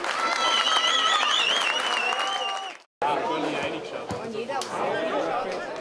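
Home supporters at an amateur football match cheer after a headed goal makes it 2:0, a loud crowd roar with clapping and shouting that breaks briefly, then resumes with chatter and voices.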